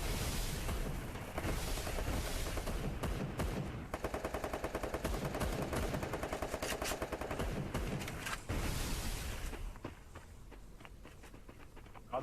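Rapid automatic gunfire in the battle royale video game Free Fire, dense crackling bursts running almost continuously, loud and close, easing off near the end.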